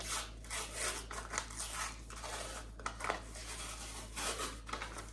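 Refrigerated biscuit dough can being peeled open, faint crinkly tearing and scraping of the paper wrapper in uneven bursts over a low steady hum, without speech.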